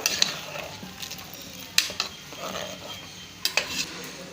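A spoon stirs ground semolina into boiling vegetables in a cooking pot, giving soft scraping and a few sharp metallic clinks against the pot amid gentle bubbling, with no talking.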